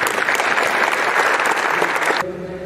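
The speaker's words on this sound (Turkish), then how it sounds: "bir alkış istiyorum" A crowd at a farewell ceremony for a district governor in Beytüşşebap claps in steady, full applause for a couple of seconds, then it cuts off abruptly into near quiet.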